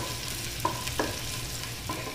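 Chopped garlic and ginger fry and are stirred in a pan for chicken momos, producing a steady close sizzle with a couple of soft scraping stirs.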